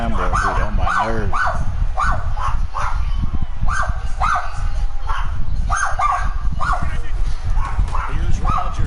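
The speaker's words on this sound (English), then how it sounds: "Fucking dogs of mine, boy, get on my nerves." Dogs yip, whimper and bark in repeated bursts close by, mixed in with a television football broadcast, whose commentary runs continuously underneath.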